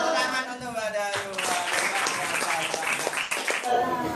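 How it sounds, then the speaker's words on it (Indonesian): A class claps for a student in a lesson, with brisk applause running under a teacher's voice that is speaking in Indonesian. "Tepuk tangan untuk Mbak Dayu."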